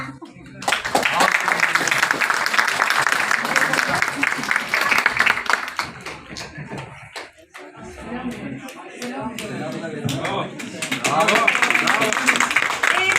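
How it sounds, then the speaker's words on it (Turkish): A crowd applauds students loudly and steadily at a kindergarten tree-planting event, with a pause midway and the clapping swelling again near the end. "kocaman alkışlıyoruz öğrencilerimizi."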